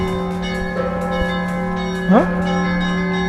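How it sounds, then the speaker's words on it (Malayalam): Church bells, a small one and a large one, struck in rhythm, steady ringing tones with a brighter swelling strike partway through, no talk. "ഇവിടുത്തെ പള്ളിമണി രസമുണ്ടല്ലേ"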